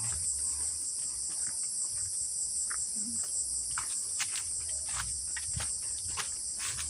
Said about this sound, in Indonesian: Coba rungokno bro suara jangkrik